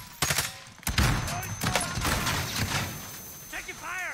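Automatic and single gunfire from the video game Call of Duty Warzone, sharp shots in bursts with a louder volley near the start, mixed with game effects and a voice talking over it.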